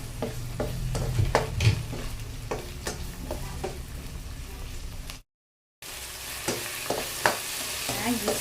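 Tomato, onion, garlic and ginger sauté in a pan for a mussel dish, a continuous close sizzle broken by repeated scraping stir strokes, with a brief silent gap midway.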